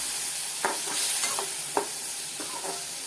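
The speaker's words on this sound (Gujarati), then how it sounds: "હવે તેમાં આપણે ટમેટા નાખી દઈએ। ટમેટાને સારી રીતે મિક્સ કરી દેવાના।" Tomatoes are stirred into chillies frying in a pan, with a soft sizzle and a few scattered scrapes and knocks of the spoon, close by and quiet.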